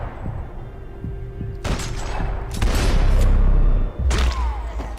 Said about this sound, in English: Und das war ein Headshot.